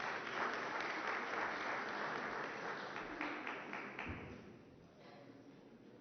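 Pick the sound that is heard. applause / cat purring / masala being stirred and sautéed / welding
applause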